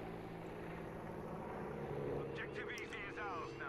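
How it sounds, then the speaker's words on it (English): An enemy plane flying in the video game Battlefield 5 drones steadily with a propeller-like hum under ongoing game noise and a talking voice, with faint whistling sweeps near the end. "Okay, that's an enemy plane, right."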